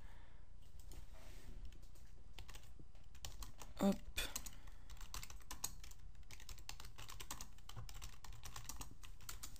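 Rapid typing on a computer keyboard clicks steadily and close by, with a brief spoken word partway through.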